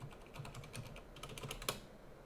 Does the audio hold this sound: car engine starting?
no